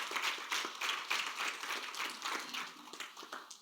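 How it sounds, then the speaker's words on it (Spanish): A church congregation at a Spanish-language service in Baltimore applauds together, giving a dense, steady wash of many hands clapping that fills the room for a few seconds and fades slightly toward the end. "dale un aplauso al Señor"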